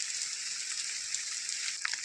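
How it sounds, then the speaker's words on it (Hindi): Heavy rain falling outside a forest cave, a steady even hiss of dense raindrops with a few brief sharper patters near the end, moderately loud and without voices. "तो बहुत तेज बारिश जो है लग चुकी है ये"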